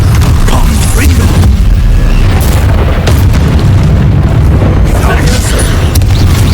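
Confringo blasting spell explosions in the Hogwarts Legacy video game, loud booming bursts and crashing rumble that fill the mix, with speech over the combat.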